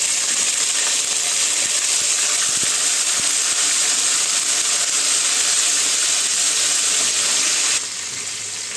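Loud, continuous sizzling and crackling of ginger garlic paste frying in hot oil, a steady hiss that drops slightly near the end.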